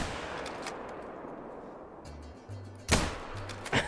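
Rifle fire in the hunting game theHunter: Call of the Wild: a sharp, loud shot rings out over a quiet outdoor ambience with a low humming tone, followed by a second shot at the end.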